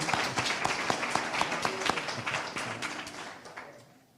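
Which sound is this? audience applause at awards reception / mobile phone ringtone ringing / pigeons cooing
audience applause at awards reception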